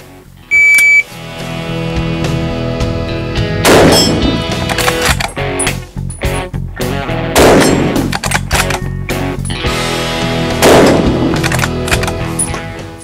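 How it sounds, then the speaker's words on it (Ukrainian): Three loud, sharp gunshots ring out a few seconds apart during timed hunting-rifle practice at a shooting school's moving boar targets, with a short electronic timer beep at the start and each shot's echo decaying before the next. "Стріляємо? Стріляємо. Стрілець готовий?"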